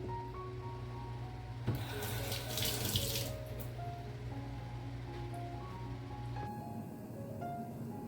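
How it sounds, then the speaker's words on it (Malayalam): Water pours off soaked rice, heard as a quiet, steady stream like a running tap. It grows into a brief heavier gush partway through, then settles back. Faint music plays in the background and no one speaks. "അപ്പോൾ നമുക്കതിനെ വെള്ളം ഊറ്റി കളഞ്ഞിട്ട് വെള്ളം തോരാനായിട്ട് മാറ്റി വയ്ക്കാം"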